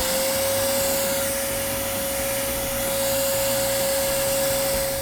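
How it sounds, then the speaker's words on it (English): A vacuum cleaner sucks up fiberglass sanding dust, giving off a loud, continuous whining drone with a steady high tone and slight surges, heard alone without speech. "Then we vacuum."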